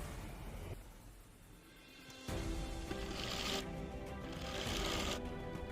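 A sewing machine stitches a baby top in short runs, its rapid mechanical whir starting and stopping, steady and close with no voice over it.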